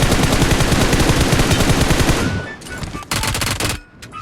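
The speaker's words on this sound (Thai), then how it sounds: "เขายิงปืน" Rapid automatic gunfire in the mobile battle royale game PUBG Mobile rattles loud and continuous for about two seconds, then breaks into a few scattered shots before cutting off.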